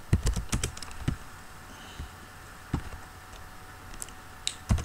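Typing on a computer keyboard: bursts of quick, close key clicks with short pauses between, including a rapid cluster at the start and scattered single taps later.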